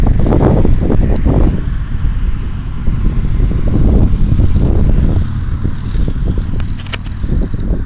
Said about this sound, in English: I don't know if you can hear me over this wind